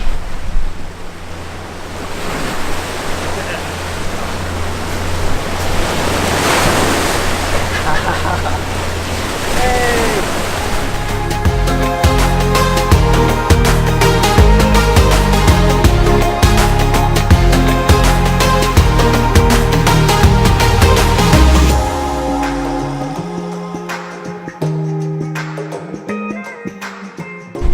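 River water laps and rushes steadily along a beach in Colonia del Sacramento, Uruguay, with gusty noise, then a droning tone and hum take over toward the end.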